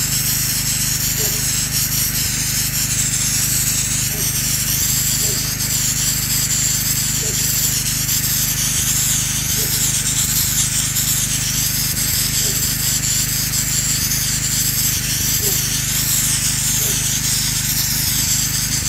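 Soap nozzle on a hose spraying a pool cartridge filter, a steady broadband hiss of water hitting the pleats that runs unbroken and close throughout.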